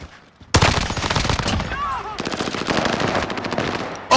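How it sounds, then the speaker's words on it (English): Sustained automatic gunfire in the video game Battlefield 4 starts abruptly after a quiet moment and rattles on loud and close, rapid shots stacking into a dense barrage until a final burst. "I'm getting shot from behind."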